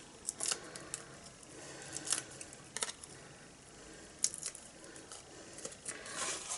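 Backing paper being peeled off adhesive pieces while making a die-cut medallion birthday card: several short crisp ticks and rips scattered through a quiet room, close and fairly faint.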